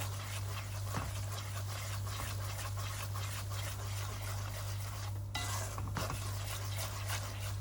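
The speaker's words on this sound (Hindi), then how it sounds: "इसलिए हम इसे थोड़ा डार्क होने तक भूनेंगे। चमचा हम मुसलसल चलाते रहेंगे।" A spoon keeps stirring egg halwa as it roasts in a pan: a continuous soft scraping and shuffling over a low steady hum, with a few faint clinks and no talking.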